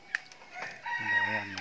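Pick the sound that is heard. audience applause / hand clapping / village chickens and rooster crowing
village chickens and rooster crowing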